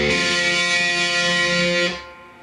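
A distorted electric guitar rings out in a sustained, buzzing chord for about two seconds, then cuts off abruptly into near silence.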